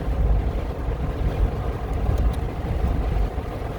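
Toyota Highlander hybrid cruising at 60 km/h, a continuous low road and engine drone heard from inside the cabin, even and unbroken throughout.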